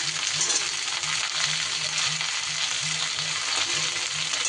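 Mixed vegetables with eggplant frying in a pan give a steady, close sizzle, with a soft regular stirring rhythm underneath throughout.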